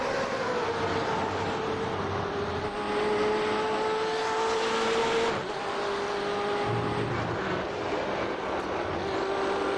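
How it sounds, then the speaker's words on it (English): A race car in iRacing at Silverstone, heard in-car, roars at steady high revs with a constant engine whine and rumble; brief lower rumbling patches fit tires skipping over a curb. "You could hear the tire skipping over the pavement through there."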